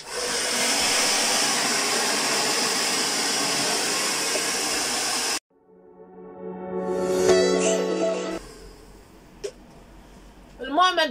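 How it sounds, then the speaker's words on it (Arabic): A handheld hair dryer blows hair with a loud, steady whooshing hum for about five seconds, then cuts off abruptly, followed by someone talking. "السشوا"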